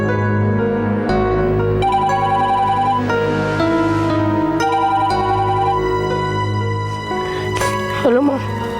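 A phone rings indoors with a loud, repeating electronic melodic ringtone that fills the whole stretch, ending in a brief warbling sweep.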